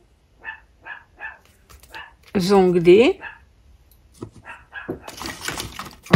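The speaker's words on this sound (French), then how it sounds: "c'est encore ma petite coquine qui aboie pendant que je fais ma vidéo" A small pet dog barks indoors in short sharp yaps amid a woman's speech, including a longer whining bark burst mid-way.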